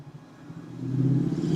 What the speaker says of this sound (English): Motorcycles are so loud and annoying.